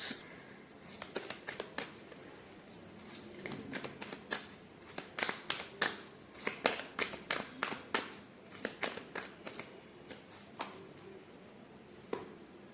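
Oracle cards being shuffled by hand: soft, quiet riffling and flicking in quick repeated bursts, close up and without talk.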